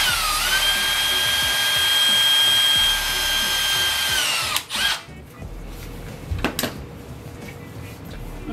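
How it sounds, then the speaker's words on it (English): A power drill whines steadily for about four seconds drilling a quarter-inch hole in a sump pump lid, then stops, followed by a few clicks and small handling knocks. "usually you can do about 1/4 inch hole and you just drill it right here"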